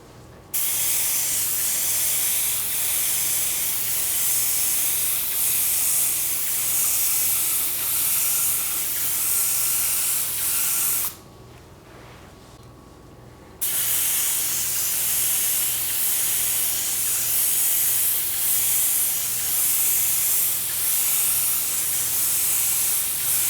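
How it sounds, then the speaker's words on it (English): A loud, steady airbrush hiss sprays aluminum metallic paint continuously, pausing briefly for a couple of seconds before starting again at the same intensity. "I'll spray that using the Grex"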